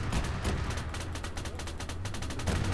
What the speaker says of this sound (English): they're going to open fire for me.